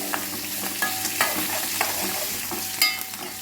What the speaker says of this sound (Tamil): இப்போ வெண்டைக்காயை போட்டு கல்லுக்குள்ளே போட்டாச்சு